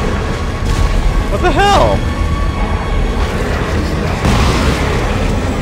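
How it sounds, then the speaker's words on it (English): Giant chunks of rock hurled by a creature in the Dead Space 3 video game crash with heavy booming impacts amid a noisy battle, while people talk over it. "It's throwing giant chunks of rock at us!"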